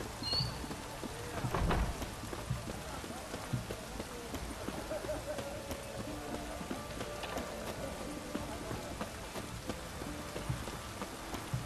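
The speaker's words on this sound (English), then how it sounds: "What a downpour." Heavy in-game downpour in The Witcher 3, a steady dense hiss of rain filling the scene, with a brief louder burst early on and faint voices and movement beneath.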